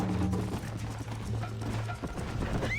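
Horse hooves clip-clop in steady rhythm in the video game Red Dead Redemption, close and loud over a low droning rumble, with a brief whinny-like squeal toward the end.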